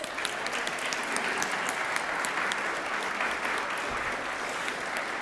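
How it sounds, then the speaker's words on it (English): A church congregation applauding during a Sunday morning worship service, a steady, even roll of many hands clapping at moderate distance, continuous for several seconds with no voices on top. "I think we can clap."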